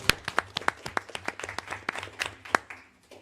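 A small group at a town commission meeting claps briefly, scattered and uneven, the handclaps fading out after a few seconds.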